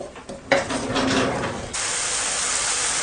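Onion-tomato masala with salt for aloo matar paneer cooking in a pan: a sudden loud sizzle then a steady close hiss of frying, with no voice.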